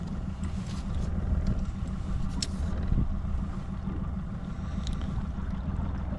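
A fishing boat moves across a lake in search of perch, a steady low engine drone with wind and water rush running throughout at close range.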